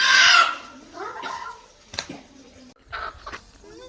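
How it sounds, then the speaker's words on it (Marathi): Desi egg-laying hens cluck and squawk nearby in a few short bursts, with brief pauses between calls. "ही आहे दुसरी कोंबडी"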